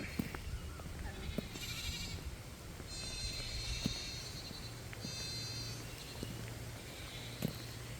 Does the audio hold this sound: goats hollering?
yes